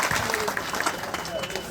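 Crowd applause at an outdoor political rally in Bihar, greeting a speaker being welcomed on stage; a steady, dense wash of clapping with voices mixed in throughout.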